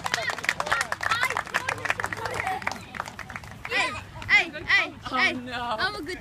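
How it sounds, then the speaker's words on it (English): Spectators clap and cheer after a children's footrace, scattered claps mixed with excited voices and shouting nearby, people talking throughout. "Give him a round of applause, please."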